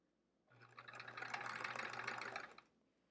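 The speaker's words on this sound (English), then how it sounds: "I'm just holding the end and attempting to sew a straight line" A sewing machine runs steadily for about two seconds, stitching a straight seam across a quilt block with a steady whirring drone, close and alone with no talking.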